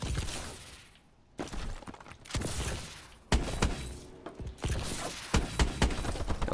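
Gunfire in Call of Duty: Advanced Warfare: sharp, repeated shots and bursts with crashing impacts, coming in uneven clusters that rise and fall across the stretch.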